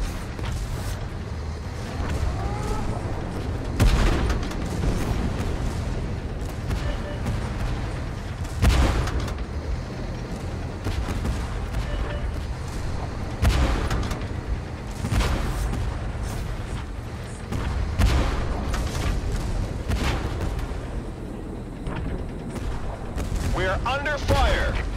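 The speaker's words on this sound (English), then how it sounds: "We're under fire." Tank cannon fire and artillery in a video game: repeated heavy booms and blasts land every few seconds over a constant rumbling battlefield bed, with a player talking intermittently.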